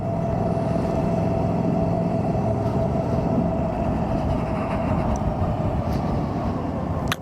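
Savic electric motorcycle pulling away under hard acceleration, a steady loud broadband rush of motor whine and wind noise holding constant throughout, with no talk.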